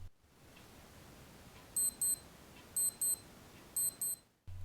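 A Casio G-Shock DW6900 digital watch alarm beeps in three evenly spaced pairs of short, sharp, high-pitched bleeps over a quiet background hiss.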